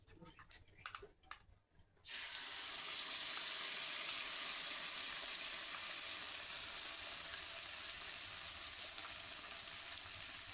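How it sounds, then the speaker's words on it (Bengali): Poppy seed paste is stir-fried in a hot pan, giving a loud, continuous sizzle that starts abruptly after a few seconds of scraping and clatter, then holds steady and close with no voices. "দিয়ে আমি ভালো করে কষিয়ে নিয়ে নিচ্ছি একটু কষিয়ে কাঁচা গন্ধ না থাকে"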